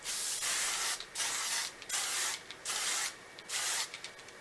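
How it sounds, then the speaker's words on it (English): Five short bursts of a primer SPF face mist spraying onto a face hiss close by, each about half a second long, separated by brief pauses. "So I'm gonna give my face a spray."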